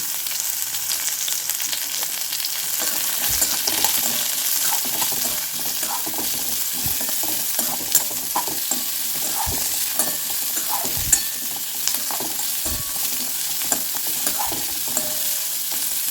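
Onions hiss and sizzle in a hot pan while a spoon repeatedly scrapes and stirs, producing a steady frying noise punctuated by soft knocks.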